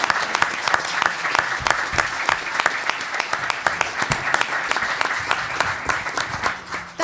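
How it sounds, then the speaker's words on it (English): Steady audience applause for panelists at a sports and society panel event, a sustained patter of many hands clapping at moderate loudness, fading slightly at the end. "Can we give all of our panelists a big round of applause?"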